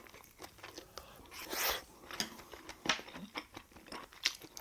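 Close, crisp crunching and wet chewing of garlic-topped pork bossam wrapped in seaweed, with irregular bites and crackles, no talking.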